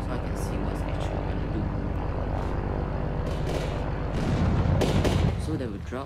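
Propeller engines of bomber airplanes drone continuously in the video game Noob Army Tycoon, with gunfire-like bursts and a louder swell near the end, over steady game noise.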